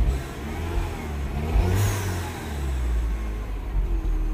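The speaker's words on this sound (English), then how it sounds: "accelerating the engine doesn't change that" A Mini Cooper S R56 running rough with high-pressure fuel system faults and in limp mode, its engine revved for a sustained stretch, a loud and steady mid-pitched drone that holds without climbing much, close by.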